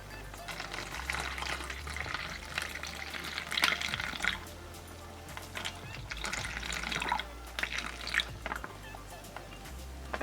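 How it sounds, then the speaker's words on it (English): Water is poured into an MRE ration pouch of vegetarian taco pasta, a soft trickling and gurgling with light splashes, fairly quiet and close. "let's add some water"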